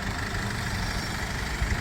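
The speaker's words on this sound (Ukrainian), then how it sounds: "Заведений двигун." The 2.2-litre diesel engine of a 2005 Mercedes 413 van idles close by, a continuous low rumble with even vibration and no voices.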